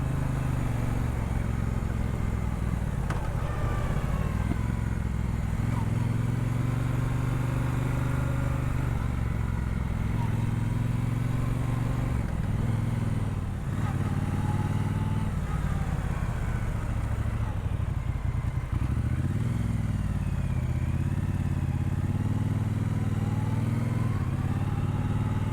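A Triumph Speedmaster motorcycle engine runs steadily and loudly throughout, with a continuous low rumble and slight pitch shifts as it is ridden and slowed to park, heard close up without speech.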